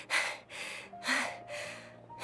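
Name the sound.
character panting heavily in Genshin Impact video game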